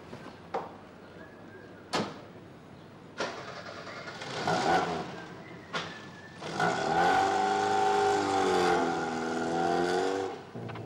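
Car engine cranks and starts after a few sharp knocks, then revs and pulls away, rising from a quiet idle to a louder, steady mid-pitched drive.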